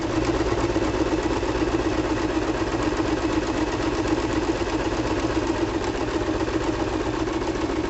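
A Singer 2250 sewing machine zigzag-stitches a buttonhole, running with a fast, steady mechanical whirr and rapid rhythmic needle clatter at constant speed, close and fairly loud, with no talking.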